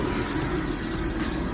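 A helicopter flies over Queenstown on a scenic flight, heard from inside as a loud, steady engine drone with regular rotor thumps pulsing about every quarter second.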